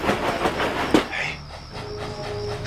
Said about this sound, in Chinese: 是军列。